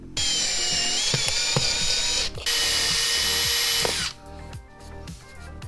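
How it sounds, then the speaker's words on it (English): A power drill drives a screw into a half cabin boat's gunwale in two long bursts with a short pause between, then winds down, its motor pitch rising and falling under load. "I'm gonna use those holes to drill this back."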